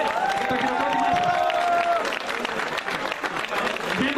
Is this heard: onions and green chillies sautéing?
no